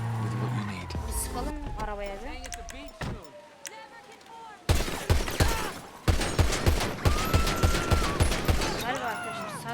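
Rapid bursts of gunfire shoot out car tires in GTA 5, with sharp repeated shots and impacts over a backdrop of radio music and a passing car, loud and close.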